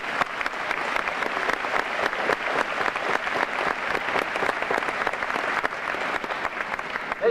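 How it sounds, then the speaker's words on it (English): A high school graduation audience applauds, a loud, dense and steady burst of many hands clapping throughout, with no talk over it. "Let's recognize this group with a round of applause."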